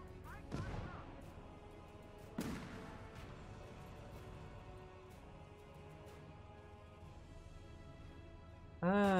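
Grenade explosions in the war game Gates of Hell: Ostfront, two sharp distant blasts early on over faint battlefield ambience, followed by a louder crash at the end.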